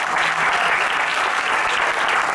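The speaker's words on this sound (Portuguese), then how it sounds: "Aplauda o Senhor e receba essa bênção." A church congregation at an evangelical service breaks into steady, dense applause, loud and continuous throughout with no pauses.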